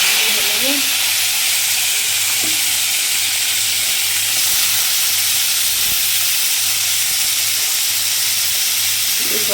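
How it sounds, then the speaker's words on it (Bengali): Bitter gourd coated in turmeric and salt fries in a pan, a loud, steady, close sizzle and hiss that runs unbroken throughout, with faint clinks and no talk. "আর এদিকে যে করলা ভাজবো"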